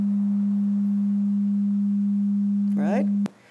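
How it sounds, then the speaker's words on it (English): A steady pure sine tone of 202 hertz holds loud and constant for over three seconds, then cuts off abruptly after a brief voice. "Now I'll play you a sine tone of 202 hertz."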